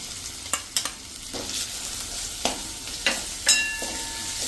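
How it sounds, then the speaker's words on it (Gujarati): Chopped onions and ginger-garlic paste fry in a pan with a steady low sizzle, broken by several sharp stirring scrapes and clinks at irregular intervals, close and moderately loud. "2 મીડિયમ સાઇઝના કાંદા સમાર્યા છે એ નાખી દેશું"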